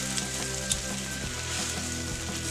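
Steady sizzling and frying of egg and food on a non-stick BBQ griddle mat, a close, continuous hiss with faint crackles and occasional light scraping, no talk.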